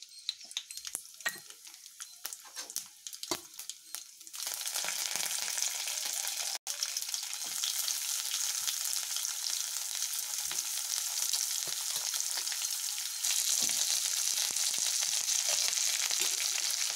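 Lentils, onion, garlic and curry leaves sizzle in hot oil for a tempering, starting as light crackles and then swelling into a loud, steady fry that runs to the end with a brief break.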